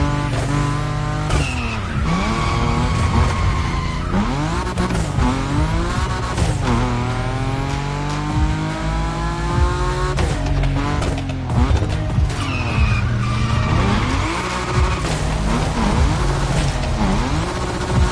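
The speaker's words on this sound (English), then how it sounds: "The drifting track of the festival, the first of a series of 3." A car drifts around a festival drift track in The Crew Motorfest, tires squealing loudly and repeatedly while the engine revs up and down under background music.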